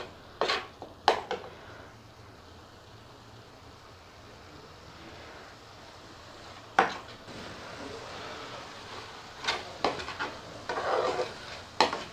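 Goat brain masala fries in ghee over low heat in a pan, giving a quiet, steady sizzle. A spoon stirs and scrapes against the pan in a few sharp bursts.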